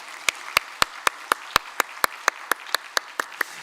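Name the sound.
church congregation applause welcoming new families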